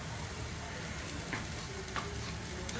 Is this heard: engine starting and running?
no